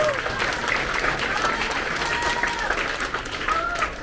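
Audience at a 6th grade promotion ceremony at Woodbury Elementary School claps for Presidential Silver Award recipients, a steady, dense round of applause with faint voices and cheers underneath.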